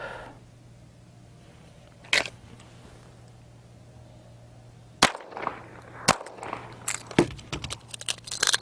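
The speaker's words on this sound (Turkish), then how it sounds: "Kılıftan çekip A ve B'ye bir atış, şarjör değiştirip C ve D'ye bir atış" Pistol shots fired at targets during shooting practice, drawn from a holster with a magazine change between pairs. Several sharp, loud cracks ring out at irregular intervals over a low steady hum, followed by smaller clicks and clatter.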